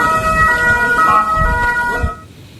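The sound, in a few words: air raid warning siren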